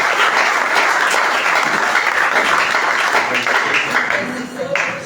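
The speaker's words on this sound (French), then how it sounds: "Je crois que nous devons vraiment acclamer le Seigneur." A church congregation bursts into loud, dense applause for the Lord, sustained clapping that holds strong before easing slightly near the end, with voices mixed in.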